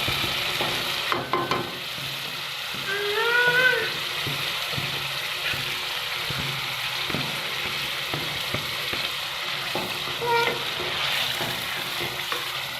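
Marinated chicken liver frying in masala for kaleji, giving a loud, continuous close sizzle with occasional stirring scrapes and clinks in the pan.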